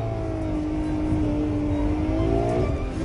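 A Ferrari F12's naturally aspirated engine hums steadily and loudly from close by, its smooth tone climbing slightly in pitch as it revs, with no voices over it.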